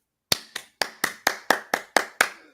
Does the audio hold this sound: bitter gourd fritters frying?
no